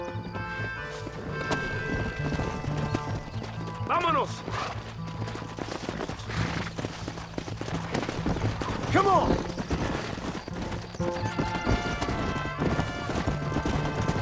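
Rapid hoofbeats clatter over a busy action scene in the game Red Dead Redemption, with horses whinnying twice and voices shouting over the galloping.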